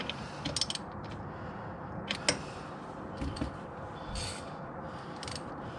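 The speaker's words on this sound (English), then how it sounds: "we're gonna remove this bolt right here" A 17 mm wrench works the oil drain bolt on a Yamaha Grizzly 90 ATV, giving quiet, close ratcheting clicks and creaks in short, irregular bursts against faint background noise.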